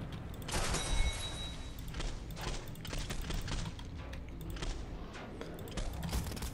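Automatic weapons fire in Killing Floor 2, dense continuous bursts of rapid shots layered with clanks and mechanical noise, loud and close throughout.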